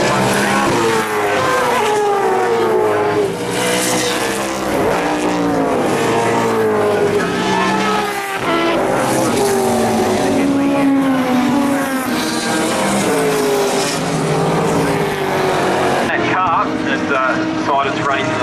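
Sports sedan race cars roar around Winton raceway, their loud engines rising and falling as the pack charges into a turn, heard continuously under a commentator's running talk.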